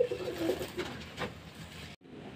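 Pigeons coo close by while being hand-fed. A soft, low cooing sits near the start over quiet background noise, and a brief silent gap follows near the end.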